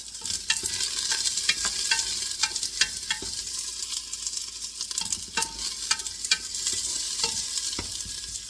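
Garlic and onion sauté for tinola in a pan, a steady close sizzle punctuated by repeated sharp spatula scrapes and taps in an irregular stirring rhythm, with no voices.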